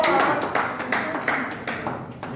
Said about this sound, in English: Let's clap for group